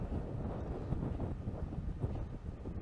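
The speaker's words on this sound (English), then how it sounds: "And really being buffeted about now by the wind" Wind buffeting a microphone outdoors at Formby Beach, a steady low roar with gusty swells throughout, fairly faint overall and with no one speaking.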